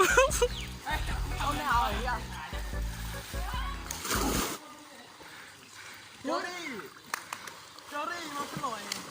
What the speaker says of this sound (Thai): ดูตัวเกมเมอร์ว่ายน้ำครับผม